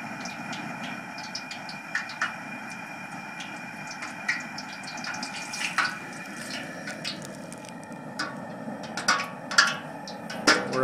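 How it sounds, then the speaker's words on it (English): Water droplets boil off inside a heating turkey fryer pot of oil, with a steady burner rumble underneath. Scattered sharp pops and crackles come irregularly and grow more frequent toward the end. "That's the sound of water droplets boiling off from inside the pot."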